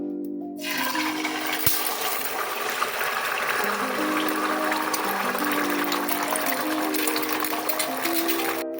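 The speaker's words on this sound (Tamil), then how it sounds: "எண்ணெய் காஞ்செடுத்து இப்போ வந்து முட்டையை ஊற்றிக்குவோம்." Five beaten eggs are poured into heated oil in a pan for restaurant-style egg fried rice, giving a loud, continuous sizzling hiss that lasts the full nine seconds with no speech.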